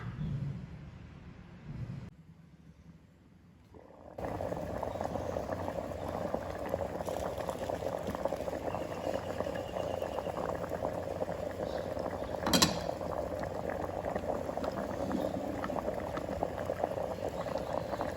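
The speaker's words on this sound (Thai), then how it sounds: "เราก็จะนำตัวพิมพ์นี้ไป นึ่ง ก่อนนะคะ ประมาณ 5 นาที" Water boils steadily beneath a mold for a Thai steamed dessert, a continuous bubbling hiss that swells in after a brief quiet gap and then holds even and close, with one short clatter partway through.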